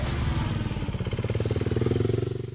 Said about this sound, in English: time to rev those engines